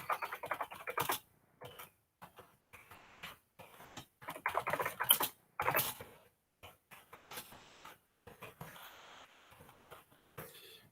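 A computer keyboard typing a form description in Google Forms: close, irregular bursts of quick keystrokes broken by short pauses.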